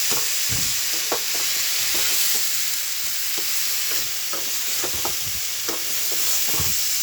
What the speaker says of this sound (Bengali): আঁচটাকে জোর করে সমান নিয়ে নাড়তে হবে, হাত ব্যথা হয়ে যাবে এইভাবে নাড়তে নাড়তে।